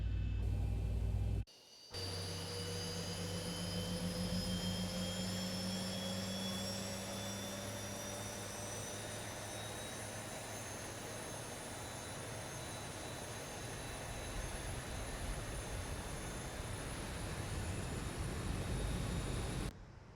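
A jet turbine engine on a ZIBO airliner starts up inside the X-Plane 12 flight simulator. After a brief dip, a faint whine rises steadily over a low hum as the engine spools up.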